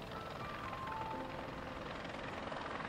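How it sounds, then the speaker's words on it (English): Helicopter flying overhead during an overnight search and rescue, a steady continuous rotor and engine drone held at a constant, fairly loud level throughout with no voices. "The helicopter flies over and changes my paradigm, shifts my paradigm."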